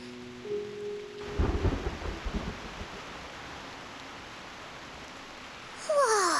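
In the Reverse: 1999 game, a sudden crack and low rumble of thunder rolls through steady heavy rain. The storm noise fades back to a rainy hiss before a bright swooping effect rises at the end.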